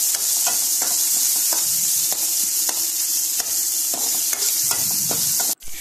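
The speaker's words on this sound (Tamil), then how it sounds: "இதோட ஒரு பெரிய சைஸ் தக்காளி வந்து ஆட் பண்ணிக்கிறேன்" Sambar base sizzling in a frying pan as a large tomato goes in, with steady frying hiss throughout and repeated soft stirring scrapes and taps, close and fairly loud, cutting out briefly near the end.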